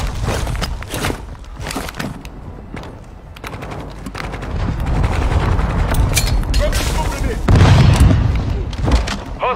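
Gunfire in a first-person military shooter, with shots and booms scattered through a dense battle mix of mechanical clatter and rumble, while a player talks over it.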